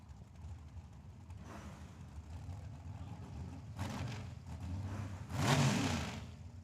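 A 1966 Plymouth drag car at Tucson Dragway, its engine rumbling and then revving in rising bursts at a distance, the last surge loudest, with no voices over it.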